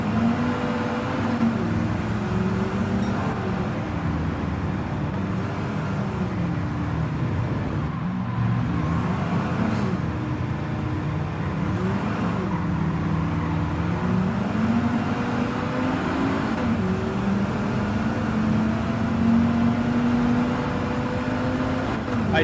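A 2-liter twin spark four-cylinder engine in a racing game, a steady droning note that swells and falls with throttle and shifts over a long stretch, with a voice talking at times.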